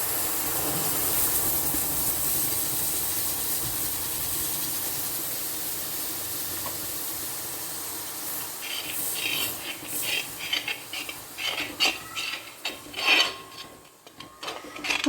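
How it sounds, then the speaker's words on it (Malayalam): Hot boiled milk poured onto caramelized vermicelli in a pan for a sago payasam sets off a loud, close hissing sizzle that gradually settles into softer bubbling and scattered spits and crackles. "നമ്മൾ തിളപ്പിച്ചിട്ടുള്ള പാലിൽ നിന്ന് കുറച്ച് ചൂട്ടോടുള്ള പാൽ ഒഴിച്ച് കൊടുക്കാം"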